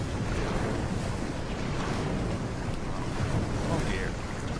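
Ocean surf and wave sound effects in a virtual-reality theatre performance of The Tempest, a loud, continuous wash of sea and wind-like rushing noise.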